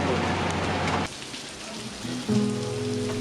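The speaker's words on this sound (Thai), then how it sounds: "การเดินทางถูกหยุดชะงักลง ด้วยพายุฝนขนาดใหญ่ ที่ตกอยู่ต่อเนื่อง" A heavy rainstorm falls continuously, a dense close wash of rain hitting surfaces that drops suddenly in level partway through, then swells again with a low steady hum joining it; no voices are heard.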